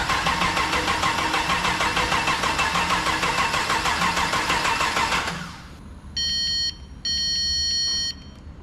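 An LS3 V8 engine swapped into a Mercedes-Benz cranks over with a steady rapid starter rhythm for about five seconds without catching, then stops, followed by two sustained electronic warning chimes.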